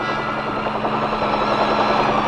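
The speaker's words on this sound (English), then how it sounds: "In Vietnam today, most aerial delivery of these field pieces is being accomplished by huge Chinook helicopter sling delivery." Chinook helicopter in flight during Vietnam-era army airmobile operations, a loud continuous rotor and engine roar with a fast throbbing chop, close and steady.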